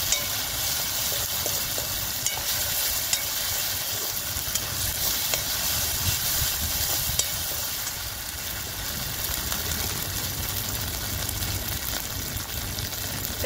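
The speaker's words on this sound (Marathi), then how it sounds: "आता अद्रक लसूणची पेस्ट पण परतून घेते मी." Ginger garlic paste sautéing in a pan over a wood-fired stove, with a steady, dense sizzle and frying hiss running continuously and close, with occasional stirring and no voices.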